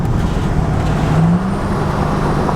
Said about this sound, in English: Let's downshift one more time.